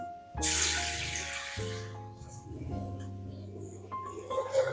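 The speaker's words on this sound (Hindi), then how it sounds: "साथ इसमें डाल देंगे थोड़ा सा पानी।" A sudden hissing splash as water hits frying spices in a hot pan for red lentil curry, followed by a steady sizzle that slowly settles, with faint tonal sounds in the background.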